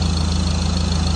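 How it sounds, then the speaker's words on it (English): Ford Ranger turbo diesel idling with an exhaust manifold leak, a loud, close, steady idle with a fast regular pulsing tick over a constant low drone. "you can actually hear it's an exhaust leak"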